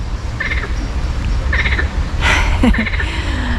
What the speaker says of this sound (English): there are some frogs there. Sounds like they're giggling.